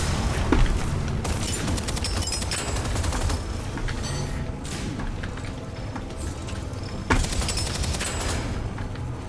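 Rapid bursts of automatic gunfire in the sci-fi roguelike shooter Deadzone: Rogue carry on almost without a break, loud and close, with a few heavier booming shots mixed in.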